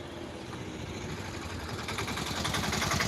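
An auto rickshaw engine idles nearby, a continuous low chugging rumble that holds steady and grows slightly louder toward the end, with no talking.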